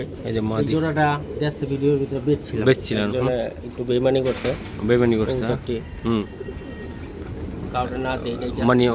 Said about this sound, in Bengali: দেন আর একটা কবুতর এটা কি কবুতর